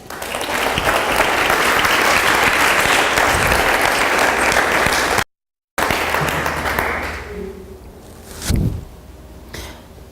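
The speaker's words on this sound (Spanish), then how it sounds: "Le damos un aplauso." A church congregation applauds loudly, a dense sustained burst of clapping that continues after a brief gap, then tapers off into room sounds and a cough.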